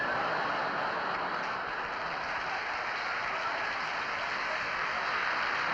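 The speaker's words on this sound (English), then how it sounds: "Would the people in the cheaper seats clap your hands?" A concert audience at a show claps in a dense, continuous wash of hands that holds steady throughout, heard from a distance on an old, slightly hissy recording.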